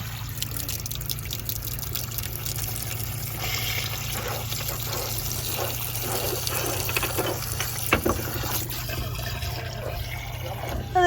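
A hose pipe fills a narrowboat's water tank with a steady trickling, gushing flow under a continuous low hum, with a faint voice now and then.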